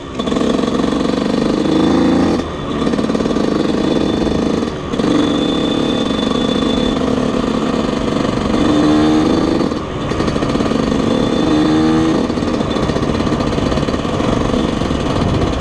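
A cold Yamaha YZ125 two-stroke dirt bike engine idles roughly and loudly up close, with a buzzing, uneven putter and a few brief dips and revs.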